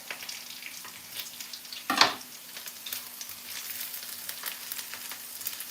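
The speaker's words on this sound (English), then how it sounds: "I want the onions to brown a little bit before I add the tomatoes" Onions fry in a pan for a soup, a quiet continuous sizzle with one brief louder burst of spattering and scraping partway through, no voices.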